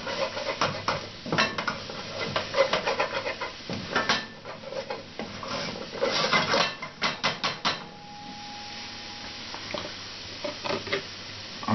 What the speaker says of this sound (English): give the minestrone a quick stir.